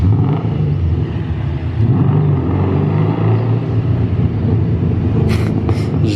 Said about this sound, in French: En tout cas, c'est un gros bruit de V8 américain.